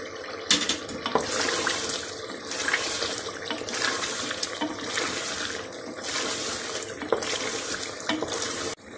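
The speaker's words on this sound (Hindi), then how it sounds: "अभी थोड़ा सा पानी भी मैं ऐड करूँगी" Water pours steadily into a cooking pot of chicken chana gosht, a close, continuous splashing rush with brief surges and stirring, with no talk over it.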